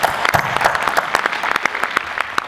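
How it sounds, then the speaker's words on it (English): Audience clapping at a FIATA World Congress 2019 opening ceremony, a dense burst of many hands applauding steadily and fairly loudly with no voices over it. "we need to applaud him for that"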